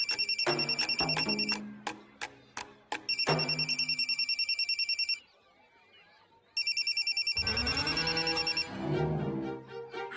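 A telephone rings in a Marathi TV serial scene, its bright electronic tone repeating loudly in bursts. The ringing breaks off for a brief quiet gap, then starts again before fading under background sound.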